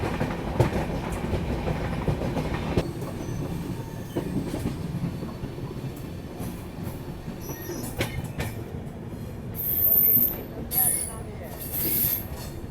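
The Swatantra Senani Express rolls into Madhubani station, its wheels rumbling and clattering on the rails with a steady mix of noise, then sharp high squeals of wheels and brakes toward the end as it slows.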